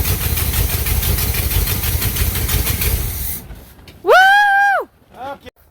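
A 1967 Cadillac hearse engine runs after starting, a loud, close, steady rumbling idle that cuts off abruptly partway through, followed by a sung or drawn-out vocal exclamation and brief voices.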